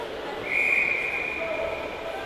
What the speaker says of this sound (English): Referee blows the whistle.